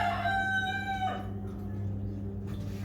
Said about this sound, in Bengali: তাহলে বলো কি করে তোমাদের সাথে কথা বলবো এরকম যদি মুরগি ডাকে?